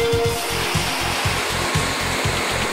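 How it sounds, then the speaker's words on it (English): A K2 woodworking machine cutting mortises with an end mill makes a loud, steady motor whine with a rapid rhythmic pulsing as the cutter works, heard close and continuous. "With the K2, mortises are cut clean, quick and precise with an end mill"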